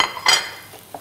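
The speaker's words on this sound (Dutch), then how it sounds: "Dan ga ik even 3 bordjes pakken, want ik heb voor jullie 3 groentegerechtjes. Gaan we die hier neerzetten." Ceramic plates being picked up and set down on a kitchen counter during a vegetable cooking demonstration, a few brief clinks and clatters, one louder knock near the start and softer taps after.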